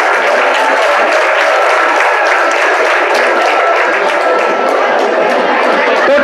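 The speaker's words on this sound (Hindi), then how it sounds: "इनके लिए ताली बजाइए।" A seated audience at a career counselling talk breaks into loud, steady applause, a dense wash of clapping that fills the whole stretch without pause.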